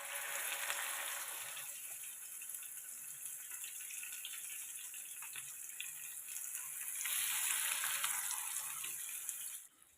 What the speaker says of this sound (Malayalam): മീൻ എണ്ണയിൽ കിടക്കുമ്പോൾ ഇടയ്ക്കിടയ്ക്ക് പൊട്ടുന്നത്